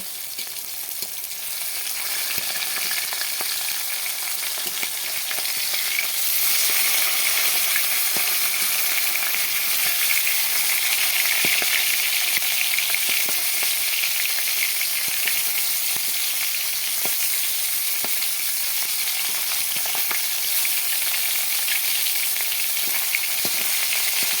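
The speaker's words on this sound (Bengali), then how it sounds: "মাছটা প্রায় ভাজা হয়ে গেছে" Fish fries in a pan with a loud, continuous sizzle and hiss that holds steady throughout, punctuated by faint clicks and no talk.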